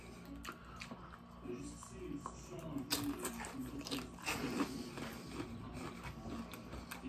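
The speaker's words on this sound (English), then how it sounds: "You guys hear that crunch of that nacho?" Nacho chips crunching with a Wendy's taco salad, faint scattered crisp bites and chewing close to the mic amid low background noise.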